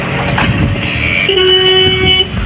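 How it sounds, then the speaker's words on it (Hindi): A motorbike horn sounds as a steady toot starting partway through, loud and close over a rough mechanical and ambient background during failed attempts to start the bike. "हॉर्न तो बजने लगा लेकिन नहीं स्टार्ट नहीं हो पा रहा है।"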